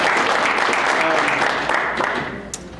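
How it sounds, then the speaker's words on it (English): An audience at a manufacturers forum claps for the day's speakers; dense applause, loud at the start, thins out toward the end. "one more round of applause for all the speakers today"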